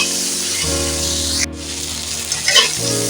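Tela kucho greens stems fry in a pan and are stirred, giving a loud, steady sizzling hiss with brief bursts of spitting, over a low sustained tonal backing.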